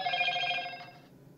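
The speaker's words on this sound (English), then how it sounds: "sorry, it was my phone." A mobile phone rings with a short, faint electronic tone that lasts under a second and then fades out. Nothing else is heard with it.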